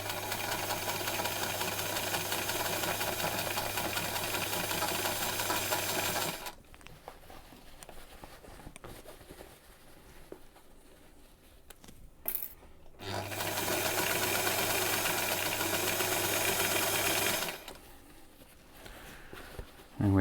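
A sewing machine stitches shorts in two long bursts of fast, even, close mechanical whirring, each lasting several seconds, separated by a quiet pause with faint handling sounds.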